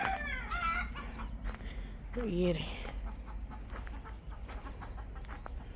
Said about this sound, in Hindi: चिकन है।